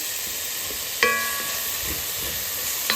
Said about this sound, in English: So we're just gonna let the peppers then cook a little bit and add one more onion at this point.